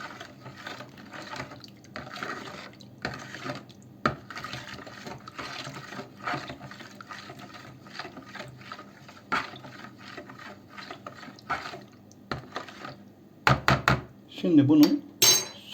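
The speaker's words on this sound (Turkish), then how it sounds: "çamaşır deterjanı ekledikten sonra iyice karıştırıyoruz bunu." Laundry detergent gets stirred into water in a pot, with repeated scraping and clinking strokes at an uneven rhythm, close and moderately loud, ending in a few sharper knocks.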